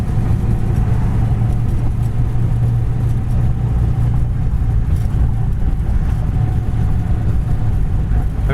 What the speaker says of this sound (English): 1938 steel body Ford with a flat head and the 3-speed